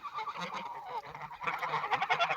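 Mammoth geese honk repeatedly at close range, several birds calling over one another in loud, nasal bursts with a short lull in the middle.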